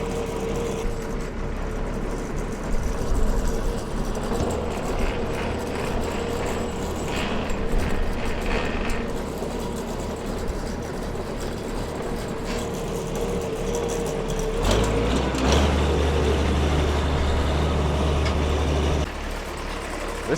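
A new farm tractor's diesel engine rumbles steadily and fairly loudly throughout, settling into a deeper, heavier idle hum near the end, with no one talking.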